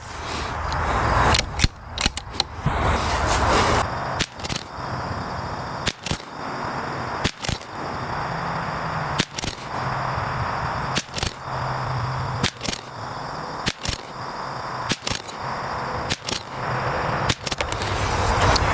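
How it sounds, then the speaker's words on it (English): A .22LR rifle fires a slow ten-shot group at a range, the sharp cracks well spaced every second or two over steady background noise, with no talking. "we're going to shoot 2 10-shot groups"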